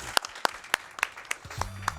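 Seven sharp claps at an even, steady pace, fairly quiet and close, from an audience at a speedrun marathon event, followed by a low rumble near the end.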